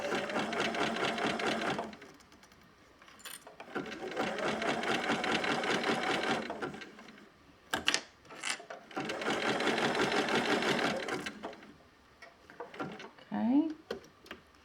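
Sewing machine stitching mesh and elastic with the needle-down setting, running in two long steady bursts with brief pauses and small handling clicks between.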